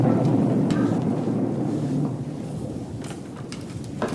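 Heavy, steady rain pours down during a thunderstorm, with low rumbling thunder rolling underneath. The downpour is a dense, continuous wash that eases slightly partway through, with no talking.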